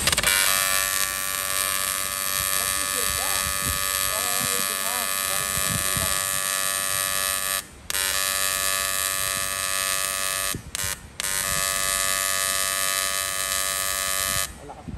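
TIG welding of aluminum with a filler rod being fed in, heard as a steady loud electrical buzz with harmonic hum that drops out briefly a few times, while people talk faintly underneath.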